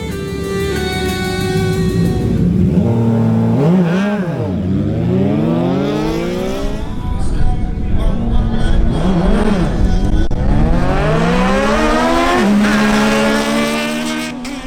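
A Kawasaki Ninja Z1000SX and a Yamaha MT-09 drag racing, with loud, close engines screaming up through the gears in repeated rising sweeps, the revs falling briefly at each shift before climbing again.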